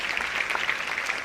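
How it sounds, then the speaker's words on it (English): Brief, fairly soft round of applause from an audience at a live talk by India's Attorney-General, a steady patter of clapping with no voices. "Can we have a huge round of applause for sir?"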